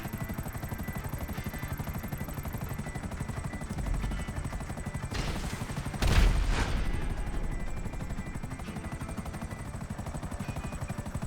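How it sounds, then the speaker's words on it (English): A bulky helicopter flies in GTA Online with a constant rotor chop and engine whine, steady and close, and a short burst of louder noise rises midway. "If you're flying a bulky helicopter like me, be careful with this one."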